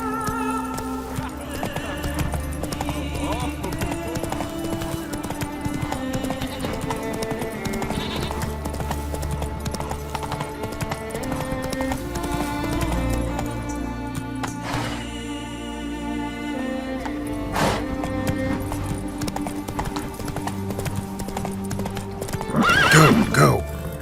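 In The Witcher 3, a horse gallops with steady, rapid hoofbeats under continuous music and game sounds, ending with a loud whinny near the close, while characters talk intermittently.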